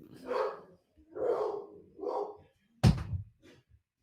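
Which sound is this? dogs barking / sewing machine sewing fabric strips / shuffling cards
dogs barking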